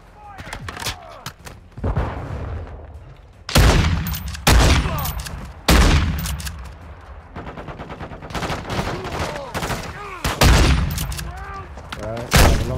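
Shotgun blasts in a video game, loud heavy booms spaced a second or two apart, some in quick pairs, mixed with other gunfire and voices talking between shots.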